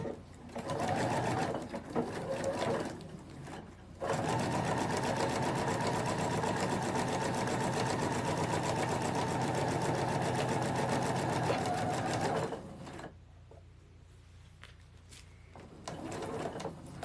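A sewing machine stitching a needlepoint stocking ornament runs in a long continuous whirring burst, with shorter runs before and after and brief quiet gaps, close by.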